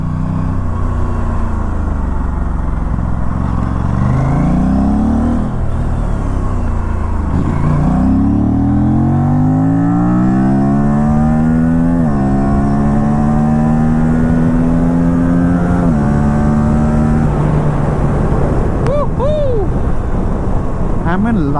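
A motorcycle engine drones steadily, its pitch climbing and dropping repeatedly as it accelerates and shifts gears, with constant road and wind noise.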